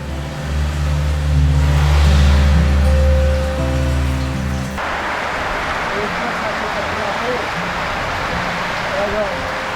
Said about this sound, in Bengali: বৃষ্টি চলে আসছে প্রচুর বেগে চরের মধ্যে বৃষ্টি হচ্ছে